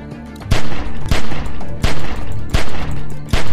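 Gunfire in The Walking Dead: 400 Days video game, a loud close volley of repeated shots, roughly five sharp reports at uneven intervals, each trailing into a heavy booming tail.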